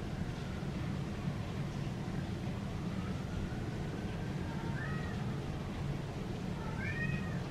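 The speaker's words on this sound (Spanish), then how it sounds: "Dios mío, este gato." A cat meows twice in rising, whining calls, close and clear, over a steady low rumbling background with no talking.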